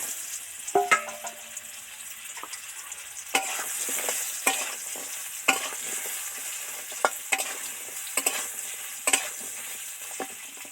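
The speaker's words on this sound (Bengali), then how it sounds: "পটলটা ম্যারিনেট করে তেলের মধ্যে ছেড়ে দিচ্ছি" Marinated pointed gourd (potol) pieces fry in oil under a soft, steady sizzle, punctuated every second or so by sharp spatters and scraping stirs.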